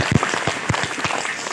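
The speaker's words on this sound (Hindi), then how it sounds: "इसलिए जोरदार तालियों के साथ आज तक सदा को स्वागत करेंगे।" An audience at a spiritual motivational talk claps, with scattered, uneven claps heard at moderate distance for a short burst.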